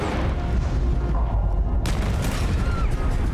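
A loud boom from a gun fires in a Red Dead Redemption 2 road ambush, the blast sitting heavily over a steady roar of game noise and rumble.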